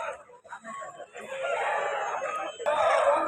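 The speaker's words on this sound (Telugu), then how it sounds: "ఈ కోళ్ళు అంతా వ్యాన్లు వేసుకుని కూడా వచ్చేస్తున్నారు" Native country chickens cluck and crow at a busy rural chicken market in Vijayawada, a dense, continuous flock din mixed with the murmur of people and surrounding market noise.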